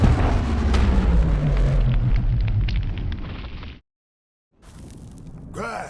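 A dreadnought blown apart in Starlink: Battle for Atlas, a big rumbling explosion with a descending roar that fades into sudden silence, followed by softer crackling debris and a rising whoosh.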